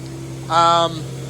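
A Ford AU Falcon that sat unused for five years idles at about 1200 to 1300 rpm, a low, steady hum throughout, with a brief voice cutting in over it.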